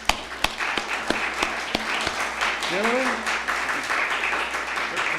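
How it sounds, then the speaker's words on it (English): An evening gathering applauds the sheriff zone leaders of Santa Cruz Station, a dense crowd clapping with a few sharp louder claps standing out, while someone speaks over the applause. "let's give them a big round of applause."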